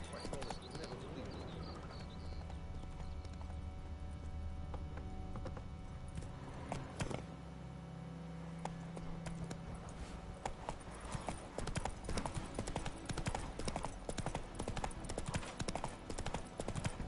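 Hooves of Roach, a horse in The Witcher video game, clip-clop in a steady galloping rhythm throughout, growing denser and louder toward the end, with a voice speaking over it and game ambience underneath.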